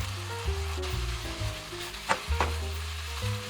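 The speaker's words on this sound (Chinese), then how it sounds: "炒到汤汁收浓后，加入水淀粉勾个芡" Eel strips with wild rice stem are stir-fried in a wok, sauce thickened with starch slurry: steady close sizzling with a couple of sharp utensil scrapes against the pan. No one speaks.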